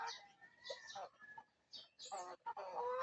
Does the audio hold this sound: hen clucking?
yes